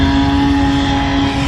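Cars at a motorplex exhibition day revving and accelerating during a burnout, a loud steady engine roar with a strong droning tone that holds throughout, no talk.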